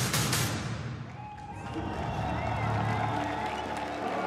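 A crowd filling an arena at the StarSeries final-day opening ceremony gives a dense roar of murmuring, clapping and cheering. A voice talks over it throughout.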